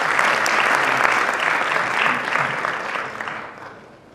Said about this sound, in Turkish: O yüzden ayrı bir alkış Aykut Hocam'ın.